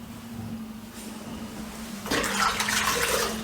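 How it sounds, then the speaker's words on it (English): Warm water runs and splashes for a moment, poured or wrung out for wiping wallpaper paste, quiet at first and then louder with a steady wash in its second half. "And I've got warm water."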